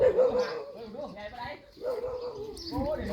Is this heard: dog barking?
yes